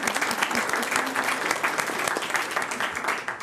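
An audience at a Washington County, Arkansas quorum court meeting claps together, steady moderately loud applause throughout the room with a faint voice underneath.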